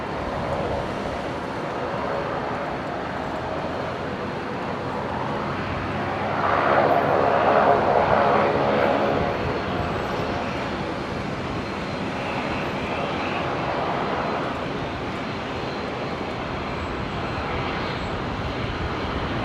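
A Jetstar Airbus A320 taxis at Brisbane Airport, its engines a steady broadband rumble that swells briefly louder midway, then settles into a constant hum.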